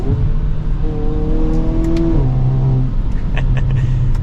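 A 2023 Hyundai Kona N, under 300 horsepower, accelerating hard from inside the cabin, a loud steady engine note rising through the gears with a shift near the middle, continuous and close.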